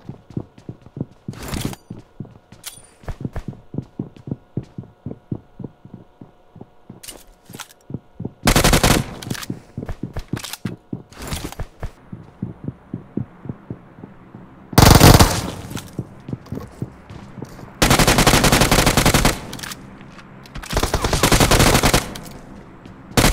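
Automatic gunfire in the PUBG Mobile video game: loud bursts of rapid shots from close by, mixed with stretches of single reports and clicking, fast rhythmic fire alternating with brief lulls.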